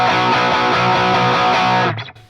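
Electric guitar through a Marshall amp set to a hot high-gain tone, a thick distorted riff with steady rhythmic chugs for about two seconds, then a chord left ringing and fading, no talking.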